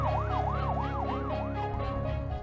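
An ambulance siren wails in a steady rising-and-falling yelp, loud and close throughout, over a low engine rumble, with no talking.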